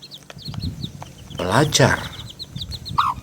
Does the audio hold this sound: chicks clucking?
yes